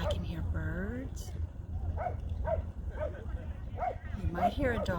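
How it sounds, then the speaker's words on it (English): A dog gives a run of short, yippy barks and whines, repeating roughly every half second at moderate distance over a low background rumble. "You might hear a dog like that barking."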